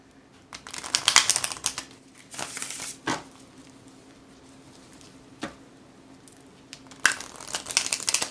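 A deck of playing cards is riffled and shuffled in several short crisp bursts, with quiet pauses between them, heard up close and with no talking.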